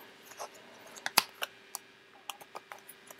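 Tarot cards are shuffled and handled, giving soft, close clicks and snaps that come in irregular bursts with brief gaps between them and no talk.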